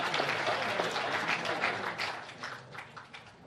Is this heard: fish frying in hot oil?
no